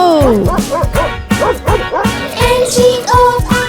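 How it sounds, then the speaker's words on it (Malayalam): A dog barks and yips in quick repeated bursts through a Malayalam nursery rhyme about a farmer's dog, loud and close over a musical backing. "ഒരു നായ ഉണ്ടായിരുന്നു കർഷകന്, പേര് അതിന്റെ ബിങ്കോ."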